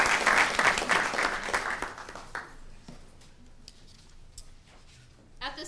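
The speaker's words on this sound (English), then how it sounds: "Let's give one more big round of applause" A student government assembly audience gives dense, loud applause that tapers off over a couple of seconds, leaving a few stray claps and faint room noise.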